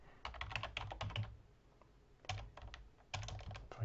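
Computer keyboard keys clatter in three quick bursts of typing, separated by short pauses, close and fairly quiet, with no speech.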